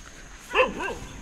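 A dog in a tribal hill village near Paderu and Hukumpeta in the Araku forest gives one or two short barks at a moderate distance, over quiet outdoor background.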